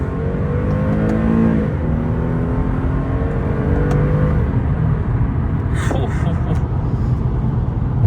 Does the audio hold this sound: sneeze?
no